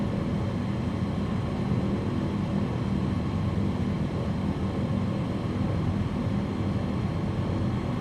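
A small Cessna 152 aircraft engine in a DayZ game mod drones continuously at a steady, loud, even pitch, a dense unbroken hum with no talk over it.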